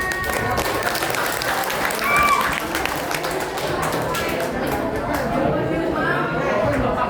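A school audience at an Isra Mi'raj commemoration claps continuously, a dense patter of hands with murmuring voices and chatter mixed in throughout.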